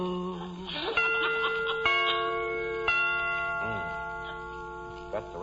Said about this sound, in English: remember to get them chimes made softer. No sense in letting the neighbors hear the time for nothing